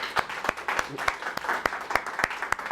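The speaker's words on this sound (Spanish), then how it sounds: "yo quiero que le demos un aplauso al Señor por esto que Él ha hecho por nosotros." A church congregation applauding during a resurrection service, scattered and fairly faint clapping with distinct individual claps at an uneven rhythm.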